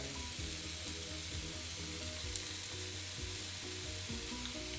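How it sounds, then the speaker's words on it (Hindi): Pesto pasta sizzling and frying in a pan, a steady close crackle with faint stirring scrapes, continuous and alone without talk. "आप देख सकते हो पास्ता हमारा अच्छे से सॉस के साथ मिक्स हो चुका है। 2 मिनट हम पकाएंगे।"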